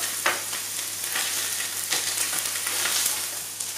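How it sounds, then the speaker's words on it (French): Onions frying in oil in a pan, a steady close sizzle running throughout with a few brief louder crackles and stirring scrapes, no voices. "commencer à faire revenir mes oignons juste là, à côté"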